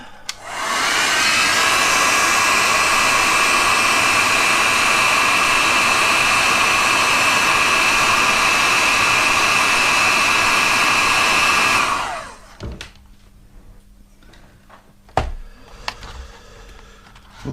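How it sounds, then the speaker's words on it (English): A heat gun shrinks heat shrink tubing during a scooter switch repair, blowing a loud, steady broadband whoosh with a whine for about eleven seconds before cutting off, then quiet handling clicks follow. "heat shrink over the top. And a heat gun on it."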